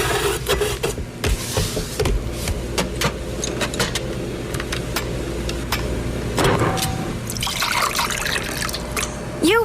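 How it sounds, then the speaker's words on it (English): Orange juice pours in a thin trickling stream, dribbling and splashing close by, with scattered clicks and light clatter around it. "You wouldn't pour OJ this way."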